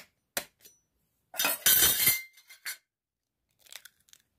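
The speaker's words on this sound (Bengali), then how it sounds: "এবার ডিমটা ফাটিয়ে দিয়ে দেবো।" An egg cracked against a bowl over a mix of yeast, sugar and salt for bread dough: a couple of sharp taps, a longer crunchy crack with shell clinks, then a few faint clicks, close up with silence between.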